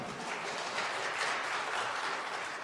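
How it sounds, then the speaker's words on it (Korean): A church congregation gives a round of applause after a Bible quiz answer, a soft, even wash of many clapping hands held at a distance without pause. "박수 한번 주십시오."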